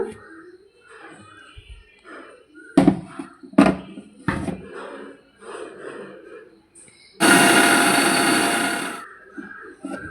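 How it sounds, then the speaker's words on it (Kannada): A kitchen mixer grinder whirs loudly for about two seconds while churning soft homemade butter with a splash of added water, after scattered knocks, clatter and breathing. "ಈಗ ಸ್ವಲ್ಪ ನೀರನ್ನು ಹಾಕಿ ಮತ್ತೆ ಗ್ರೈಂಡ್ ಮಾಡಿಕೊಳ್ಳೋಣ"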